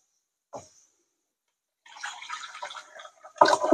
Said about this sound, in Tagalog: Next po natin ang ating potatoes. I-drain ko lang po ha.